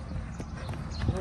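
Horse hooves clip-clop in a few soft, uneven steps under someone speaking, while a horse is guided and trained at a steady, close pace.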